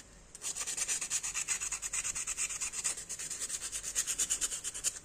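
Sandpaper rubbed steadily back and forth along a metal edge to smooth it, a close, rhythmic rasping scrape repeating for several seconds with no talk.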